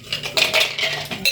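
Ice cubes drop into a glass, a quick series of close clinks and knocks over about a second, with no voices.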